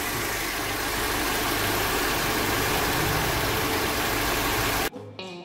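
A Mercedes engine with KE-Jetronic fuel injection idles steadily and close up, a continuous loud rumble that cuts off abruptly near the end, leaving a brief quieter tail.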